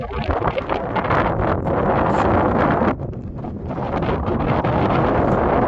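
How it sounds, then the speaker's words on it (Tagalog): Strong wind buffets and roars across the microphone at Goblin, Utah, loud and constant with brief gusty dips, no one speaking. "Hangin, mahangin. It's so mahangin. It's windy here."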